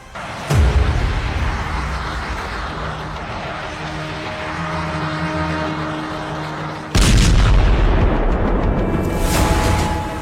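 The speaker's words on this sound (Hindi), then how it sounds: "पश्चिमी यरूशलेम में मिसाइल अटैक, तेल अवीव के करीब बेत शेमेश में हमला" Missile strikes land in Israel near West Jerusalem and Beit Shemesh: a heavy blast booms out, a low rumble lingers for several seconds, then a second loud explosion hits and echoes.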